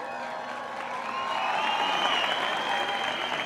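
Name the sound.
crowd applauding at archery world cup in Tlaxcala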